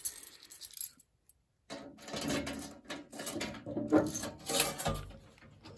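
Metal keys jangle and clink while a Simplex 4004R fire alarm panel is opened, with scattered close metallic rattles and a brief quiet gap before the sharper jingling begins.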